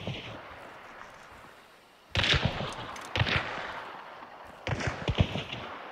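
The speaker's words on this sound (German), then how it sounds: "die beballern sich aber von draußen" Gunfire in the shooter game Hunt: Showdown, three loud sharp volleys of shots with echoing tails at irregular intervals, over a quiet ambient background.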